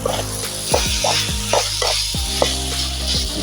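Kottu sizzles and fries loudly in a pan outdoors in a jungle setting while someone stirs and chops it. Repeated metallic scraping knocks punctuate a continuous hiss, and there is no voice.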